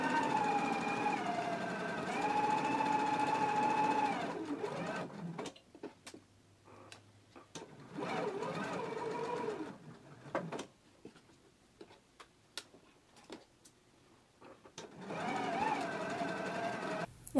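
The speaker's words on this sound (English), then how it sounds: "So let's go ahead and stitch the binding in place now" A sewing machine stitches binding in place on a Simplicity 8890 garment, running in three separate stretches with a whining motor tone, broken by quiet gaps and small clicks.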